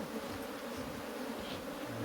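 Honey bees building fresh white comb in a hive during an inspection among aloes make a steady, dense, close buzzing drone that carries on without pause and without voices.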